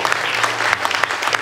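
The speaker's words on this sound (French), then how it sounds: "on peut l'applaudir" Audience applause at a Rotary Club inauguration event in Reims, a dense burst of clapping filling the whole short moment at steady loudness.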